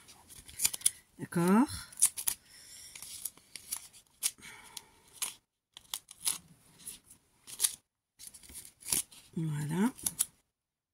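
Scissors snip through paper for a scrapbooking page in a string of crisp, close cuts with short pauses between them, while a person speaks briefly now and then over the cutting.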